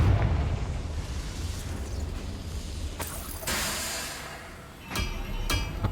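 A Confringo explosive fire spell cast in the Hogwarts Legacy game, heard as a sustained roaring blast with sharp bursts and crackles layered over a rumbling low end, close and loud.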